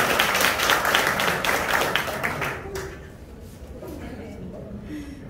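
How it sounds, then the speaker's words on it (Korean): Audience applause at a Rotary club officer installation ceremony in Gwangju, dense and loud for a few seconds, then thinning out into scattered claps and soft room murmur. "큰 박수 한번 부탁드립니다."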